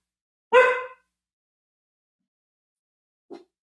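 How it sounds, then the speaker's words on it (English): An indoor dog gives one sharp, close bark, followed a few seconds later by a short, fainter yip, with silence in between. "here, excuse my dog"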